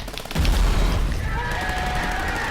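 Gunfire in the video game Not for Broadcast: a loud, dense burst of shots and booms fills the clip continuously, with no talk over it.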